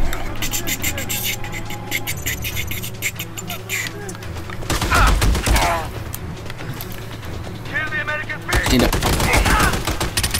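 Bursts of rapid automatic gunfire from the Army of Two shooter game crackle through an oil field firefight, loud and repeated, with players' voices shouting over the shooting.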